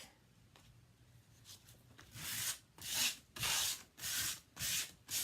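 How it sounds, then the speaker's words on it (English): Hand sanding of an old wooden thrift store picture frame with sandpaper, giving it a rustic, chippy finish: five loud, rhythmic abrasive strokes follow a quieter stretch of faint rubbing, and no voices are heard. "I'm literally just dragging my hand across it with the sandpaper"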